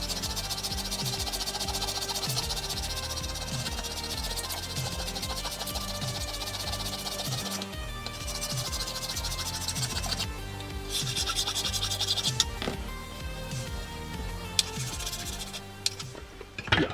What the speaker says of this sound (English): file applied to this plastic.